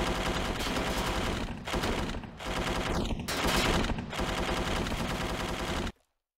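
Sustained machine gun fire from the gun turrets of a B-29 Superfortress bomber in the War Tycoon video game, a loud continuous rattling burst with brief gaps that cuts off abruptly near the end.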